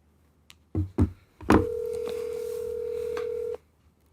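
An outgoing telephone call begins with a few short dialing clicks and beeps, followed by a long, steady tone of about two seconds, heard up close with no talking.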